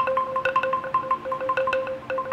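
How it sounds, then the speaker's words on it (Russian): Vietnamese bamboo trung xylophone, an octave struck together with a double-ended mallet in a quick tremolo of bright wooden tones, fairly soft and alone. "Таков и бамбуковый ксилофон трынг."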